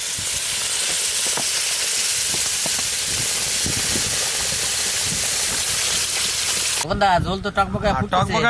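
A pot of country chicken and potato curry, with water just added, bubbles and hisses steadily at close range, a loud continuous sizzling wash that shifts near the end to more uneven rumbling.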